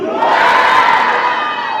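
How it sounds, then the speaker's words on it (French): A church congregation of about 35 people shouts "gloire" together in worship, a loud, sustained massed cry that fills the room for nearly two seconds. "Entendez 35 personnes crier gloire."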